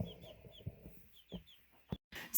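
Baby chicks at a spring farm give soft, high cheeps and clucks in short scattered bursts, close by, with a few brief knocks and rustles and no voices.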